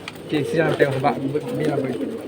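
High-flying pigeons coo in low, rolling phrases that repeat through the clip at close range, with a voice talking over them.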